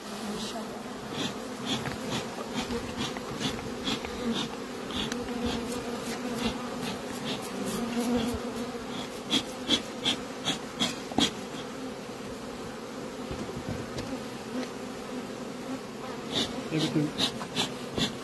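Honey bees buzz steadily and closely around the hives while chestnut honey is extracted, a dense, continuous hum with occasional sharper passes of individual bees.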